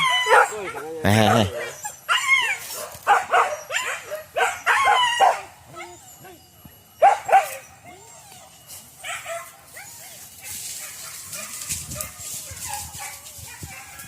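Hunting dogs on a hunt in Ampang Kualo bark and yip in close, excited bursts, with whimpers between, while people talk loudly nearby and a rooster crows faintly in the background.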